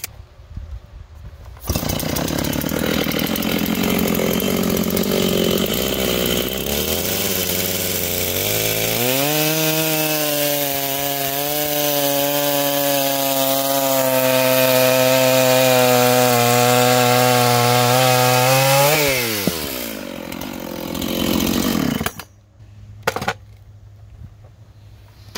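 A chainsaw bucks a 16.5-inch pin oak log lying on the ground, loud and close, revving up and holding a steady high whine through a long continuous cut before winding down and cutting off.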